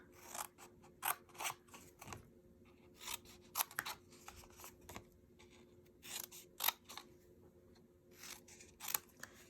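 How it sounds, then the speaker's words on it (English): Scissors cutting paper rectangles up to a score line to form flaps for a treat holder, a quiet, close series of short snipping crunches in irregular bursts with small pauses between. "I am going to cut all the way to the second score line though"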